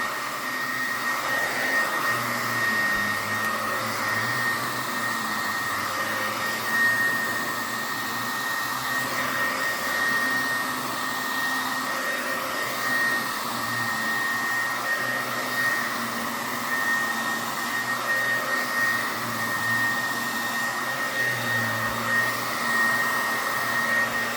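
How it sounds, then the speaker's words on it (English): A hair dryer blow-dries a child's 4c hair in a steady, loud, close whirring roar, running unbroken with a slight wavering hum and no speech. "make the blow drying process easier"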